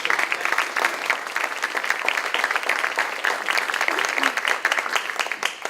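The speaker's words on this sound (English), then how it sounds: "I want to say a round of applause for the planning team, Mayor Rose" Sustained audience applause at a SUNY Guided Pathways Institute welcome session, dense steady clapping filling the room throughout with no voices on top.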